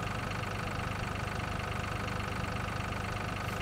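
A harvester and a tipper trailer's tractor engine driving in Farming Simulator 2013, a steady, dense mechanical drone that holds constant throughout, with no talking.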